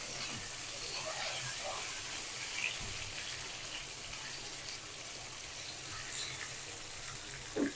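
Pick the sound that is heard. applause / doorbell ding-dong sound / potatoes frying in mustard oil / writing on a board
potatoes frying in mustard oil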